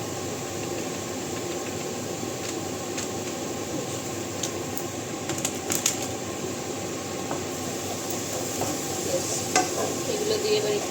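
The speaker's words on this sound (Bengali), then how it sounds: "এগুলো দিয়ে এবার একটু ভাজা ভাজা করে নিই।" Ground coriander, cumin and other spices frying and being stirred in a pan, a continuous close sizzle with scraping stir sounds and small clinks, no speech over it.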